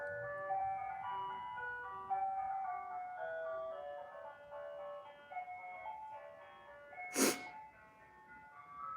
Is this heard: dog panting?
no